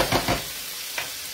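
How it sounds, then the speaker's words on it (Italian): Gnocchi with porcini frying in a pan, a few quick stirring scrapes followed by a soft, steady sizzle, heard close with no talking. "Finiamo, tanto continua a friggere."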